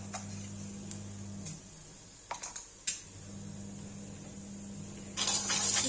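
Cumin seeds dropped into hot oil for a Kashmiri ridge gourd and potato curry, crackling in faint, scattered pops over a steady low hum, swelling into a denser sizzle at the end.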